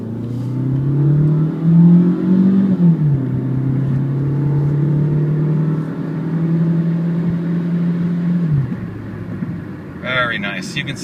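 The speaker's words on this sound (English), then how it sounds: "As soon as this car goes by, we'll take off again. All right, and away we go." A 2001 Mazda 626 LX sedan pulling away from a stop, its engine droning steadily up through the revs with a clear shift partway and a cabin-close rumble under intermittent talk.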